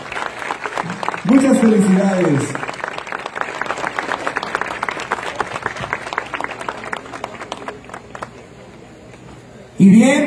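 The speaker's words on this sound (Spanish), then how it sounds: "¡El aplauso," An audience at a recognition ceremony for the group Los Dos Carnales in San Pedro, Coahuila claps steadily for several seconds, a dense patter under a voice on a loudspeaker.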